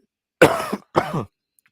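Two sharp coughs in quick succession, close and fairly loud, with no talking around them.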